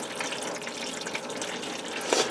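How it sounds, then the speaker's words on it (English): Fluid draining and dripping into a pan, a steady close splattering trickle with a brief louder splash near the end. "And now we just let it drip and drain."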